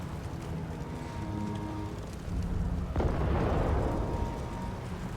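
A big explosion in the video game Mass Effect 2, a deep rumbling blast that swells over a continuous low background and lingers as a broad roar for a couple of seconds.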